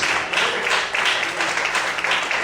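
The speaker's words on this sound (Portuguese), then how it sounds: "Você pode aplaudir o Senhor essa noite?" A church congregation applauding at an evening service, a steady, dense patter of many hands clapping continuously for a couple of seconds.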